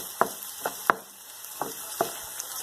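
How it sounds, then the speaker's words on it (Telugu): Vegetables frying in a pan for chicken fried rice, a quiet steady sizzle broken by several sharp clicks and scrapes of a spatula stirring, close up with no talking. "విధంగా అన్నీ ఫ్రై చేసుకోవాలి 5 నిమిషాల పాటు"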